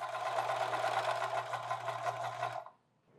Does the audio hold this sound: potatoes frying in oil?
no